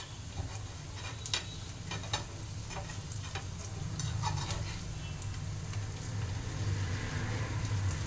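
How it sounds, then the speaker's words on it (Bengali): Sesame-topped pancakes with dried fruit sizzle steadily in oil in a pan while a spatula flips them one by one, with a few sharp scraping clicks over the constant frying hiss. "1 মিনিট হয়ে গেছে, আমি এবার এক এক করে উল্টিয়ে দেব।"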